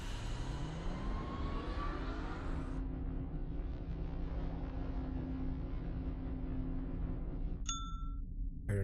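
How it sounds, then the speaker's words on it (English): A bright chiming ding from the Myst video game rings out near the end, its tones sustaining over a steady low mechanical hum and water-like rumble that fill the scene. "Heard another ding."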